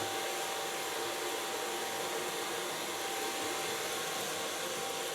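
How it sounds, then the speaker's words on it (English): A blow dryer blows steadily at close range on short hair, a constant loud hiss of air and motor with no pauses or voices. "you can feel the heat of the blow dryer, especially on short hair"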